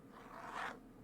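Fingernails scratching the textured cover of a book in a quiet ASMR setting, one brief raspy zipper-like stroke, faint and close.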